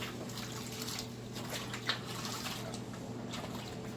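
Tap water runs steadily into a kitchen sink during handwashing, a continuous broadband splash and trickle with a brief louder splash near the middle, close and alone.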